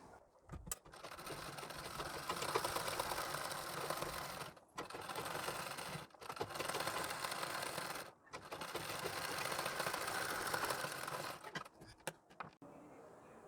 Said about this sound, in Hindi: अब हमें गले में भी सिलाई लगा लेनी है।